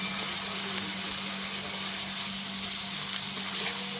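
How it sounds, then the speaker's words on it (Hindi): Ginger and chili paste frying in a pan gives a loud, steady, close sizzle with a constant hiss that continues without a break. "अब इन कच्चे मसालों को अच्छे से भून लेंगे"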